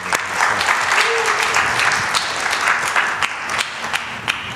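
A church congregation at a Sunday worship service applauds to welcome a new cellist joining the worship team, with loud sustained clapping from the whole room lasting several seconds.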